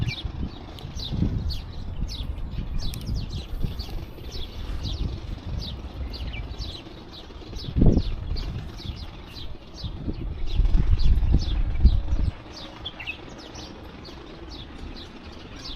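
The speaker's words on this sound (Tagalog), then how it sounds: "yung huni ng ibon pa lang marirelax ka na ang daming ibon" Many birds chirp and tweet in rapid, overlapping bursts on a morning walk outdoors, with a low rumble of wind or distant activity underneath.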